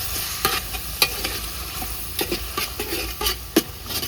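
Yogurt is stirred into deep red fried onions in a pot while making chicken biryani, with a spoon scraping and clacking against the metal over a steady sizzle and no voices.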